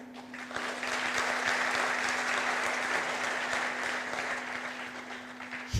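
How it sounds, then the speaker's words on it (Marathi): A crowd of girls claps together at a public Ganesh festival event, a dense sustained round of applause lasting the whole stretch at steady volume. "तर पोरीने टाळ्या वाजवल्या"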